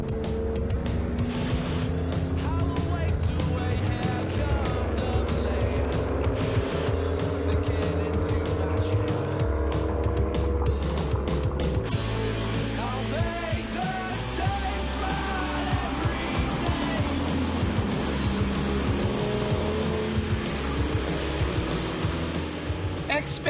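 A Ford Mustang GT laps a race track with its engine roaring steadily and loudly up close, its pitch rising and falling through gear changes. A voice talks over the engine throughout.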